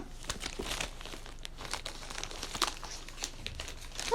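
Plastic packaging crinkles and rustles close by in irregular bursts, with crisp crackles throughout and no talking.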